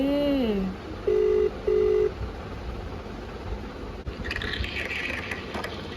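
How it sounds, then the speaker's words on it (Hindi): A phone call ringing tone beeps in two steady pulses after a short rising chirp, followed by faint background noise. "तान्या को वीडियो कॉल कर रहे हैं"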